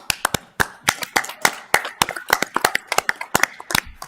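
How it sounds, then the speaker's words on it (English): Sparse applause from a small group at a public Board of Equalization meeting, distinct hand claps in an irregular patter, fairly close and moderately loud, with no talk over it. "John, do you want us to give them a round of applause for their hard work?"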